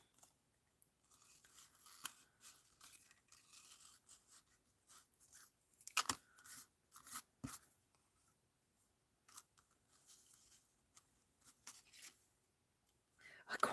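Scissors snip through paper card around a stamped peony, a few short crisp cuts scattered among quiet handling noises, close by with no talking.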